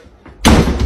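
Door slamming shut with one sudden, loud, close impact that rings briefly after a quiet lead-in.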